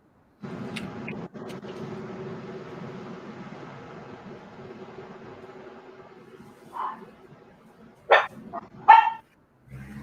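Dogs bark in a few sharp, loud bursts near the end, after several seconds of low steady background hum.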